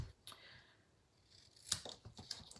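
A few quiet snips of scissors trimming paper for an artist trading card, scattered crisp cuts close by with soft paper rustling in between, no talk.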